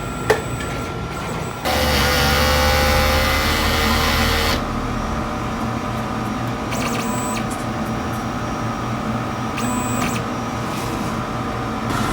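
A DTF printer with a two-head setup runs its print head cleaning cycle, a steady mechanical whir and pump hum that swells louder for a few seconds, then settles into a quieter running drone with faint clicks.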